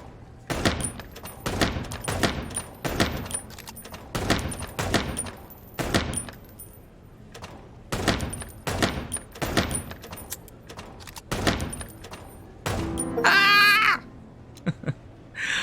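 Gunshots at a target-practice shooting range in the video game Chicken Police: Paint it RED!. Single sharp shots crack out one after another at a fairly steady pace, then a short, brighter electronic jingle sounds near the end.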